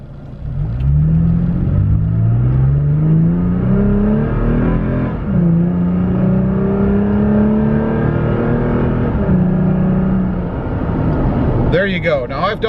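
A vehicle fitted with a TRD exhaust pulls away hard from a stop on a road, its engine note rising through a long, loud rev with a brief dip before climbing again, then easing off near the end.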